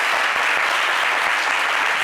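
Steady, fairly soft applause from a live audience at an Abidjan entertainment show, a dense wash of clapping with no talking over it.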